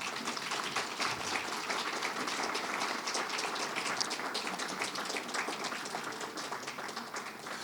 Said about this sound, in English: accept a round of applause from the crowd